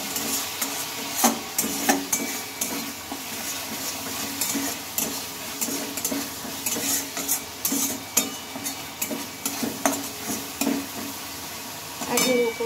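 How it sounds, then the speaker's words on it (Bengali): Pointed gourd and mung dal with sugar being stirred in a pan, a spoon scraping and clinking against metal in irregular strokes over a soft, steady sizzle, with occasional louder knocks. "চিনিটা দিয়ে আবার একটু আমি ভালোভাবে নেড়ে চেড়ে নেব।"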